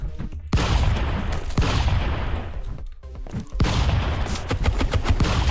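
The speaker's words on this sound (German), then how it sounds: "Shotgun mit unendlich Ammo hat der." An unlimited-ammo shotgun in the game Stick Fight fires in a dense, loud barrage of blasts. The shots are bunched into rapid bursts, with a brief lull before the shooting resumes.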